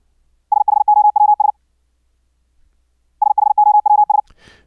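A Morse code CW sidetone comes from a QRQ training app set for zero rise and fall time. It plays two identical fast bursts of clean beeping dits and dahs, separated by a couple of seconds of silence.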